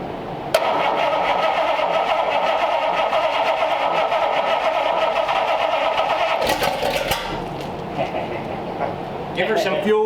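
A 1932 Schroll Coupe engine, run for the first time since 1960, fires up and runs in a shop with a steady loud mechanical clatter and rumble, its tone shifting partway through, with a sharp noise near the end.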